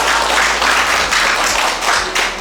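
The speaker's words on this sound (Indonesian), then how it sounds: "Saya mau minta tepuk tangannya buat Rotary Club of Bali Bersinar." Audience clapping for the Rotary Club of Bali Bersinar during a district governor's visit to a women's prison program, a dense, steady round of applause from a room of people, loud and close.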